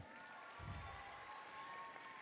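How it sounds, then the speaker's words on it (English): Audience applauding at an 8th grade school promotion ceremony, a soft, distant patter of clapping with a slightly louder swell near the start, under a faint background hum. "Let's give a round of applause for that."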